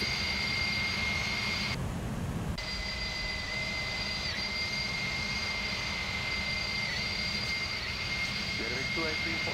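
Jet engines of a Beluga A300-600ST climbing out in the X-Plane flight simulator give a steady loud roar with whining high tones, under a voice talking.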